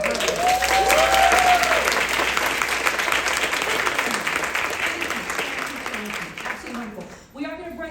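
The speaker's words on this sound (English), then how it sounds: "So Dr. Johnson, one more round of applause for her." An audience claps loudly and continuously after a speaker's presentation, the applause gradually thinning out before a voice begins speaking at the end.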